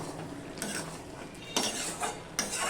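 Taro leaves being stirred in a metal pan over a high gas flame, the utensil scraping and clinking against the pan in several distinct strokes over a faint background sizzle.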